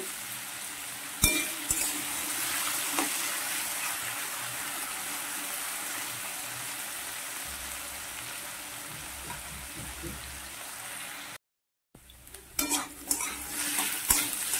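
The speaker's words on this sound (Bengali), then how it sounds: "আলুটা আর একটু ভেজে নেব।" Potatoes being stirred and fried in a pan for a Bengali-style kolar thor dish make a steady, fairly quiet sizzle with occasional utensil clinks, broken by a short gap and then renewed stirring.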